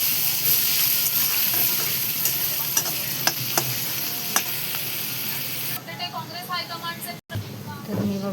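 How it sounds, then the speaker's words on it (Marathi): Onion being sautéed and stirred in a pan while cooking a soybean vegetable dish, a steady close sizzle with scattered scraping clicks, softening toward the end as a voice speaks over it. "इथे मी कांदा छान असा परतून घेणार आहे बघा"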